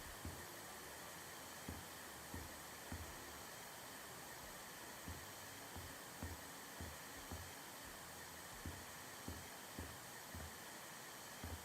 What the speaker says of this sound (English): Vacuum tool is good to remove the leaves